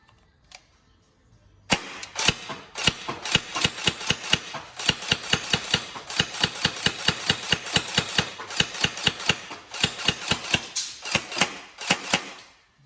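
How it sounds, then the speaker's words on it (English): Tokyo Marui SGR12 AES airsoft shotgun, upgraded, firing a rapid string of sharp single shots in quick succession, close and loud, after a brief quiet start with one isolated click. "Obviously it does have single shot, so I'll just double check that to make sure it's all good."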